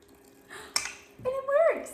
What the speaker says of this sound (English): Water comes out of the faucet